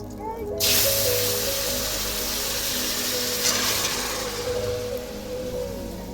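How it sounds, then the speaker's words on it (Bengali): Taro and river fish curry is poured into a hot pot, setting off a sudden loud, close, broadband sizzling hiss that continues steadily for several seconds before easing slightly, with no talking. "তরকারিটাকে এবার এর ভিতরে ঢেলে দেবো।"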